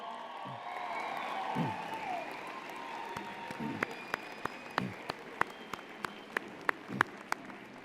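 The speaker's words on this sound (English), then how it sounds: "Wave and cheer, make some noise" Graduates at a university convocation cheer and clap in a distant, hall-filling swell of crowd noise and whoops, thinning into scattered individual claps near the end.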